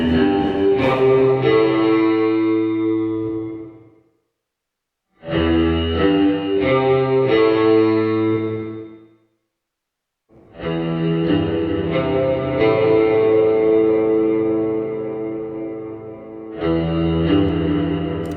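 Music run through the McDSP FutzVerb reverb plugin set to reverse early reflections: dense, sustained chordal phrases with a washy, smeared tail, broken by two short silences before the sound swells back in.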